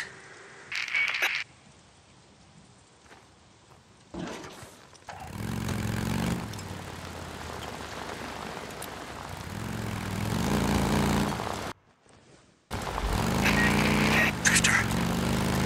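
A helicopter approaching in the video game Days Gone, heard as a steady rotor and engine drone that swells and grows louder, with brief cuts and some voices over it.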